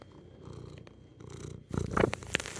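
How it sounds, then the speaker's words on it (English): A house cat purrs close by in a workshop, a soft rhythmic rumble rising and falling with each breath, quiet at first and then growing a little louder. "You're such a sweet purr kitty."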